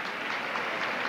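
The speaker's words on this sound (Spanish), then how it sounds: "Y muy aplaudida." Audience applause at a 1990 Miss Hispanidad International pageant, a brief, loud, dense burst of crowd clapping.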